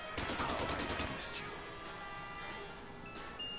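An RPK light machine gun in Black Ops 3 Zombies fires a rapid burst of shots in the first second or so, then gives way to quieter ringing game ambience.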